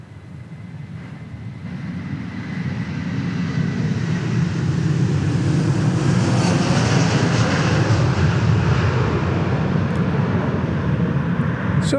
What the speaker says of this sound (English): So the Dallas Mavericks basketball team headed off to LAX on that 757 team plane.